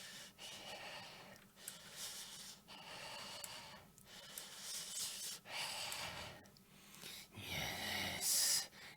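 A human voice imitates a creature's heavy, ragged, hissing breathing, with long rasping inhales and exhales repeated steadily and close for several seconds.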